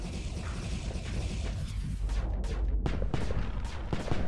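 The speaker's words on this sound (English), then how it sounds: "I forgot this Dreadnought had that insane large gun" The large gun of a Dreadnought in the video game StarSector fires heavy booming shots with sharp, mechanical cracks. They come at irregular intervals over a dense, constant combat rumble, and no one speaks.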